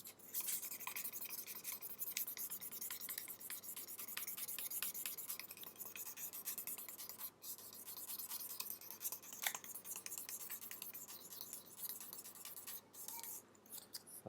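Smooth sandpaper rubbing across a spectacle holder: quiet, continuous scratchy strokes with soft rasping texture, close and faint, with no talking.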